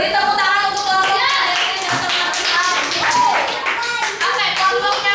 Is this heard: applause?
yes